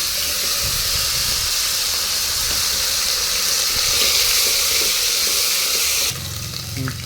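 Ginger garlic paste fries with onions in a pan for mutton biryani, a loud, steady sizzling hiss that drops in level near the end.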